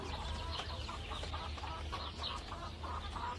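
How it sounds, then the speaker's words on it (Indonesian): Several chickens cluck in a busy, overlapping chorus, steady and fairly loud throughout, with a low rumbling background. "Kalian tidak boleh berisik, ayam-ayam."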